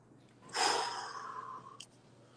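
Someone takes a single long, loud exhale during a breathing exercise, a breathy rush that fades over about a second, followed by a faint click.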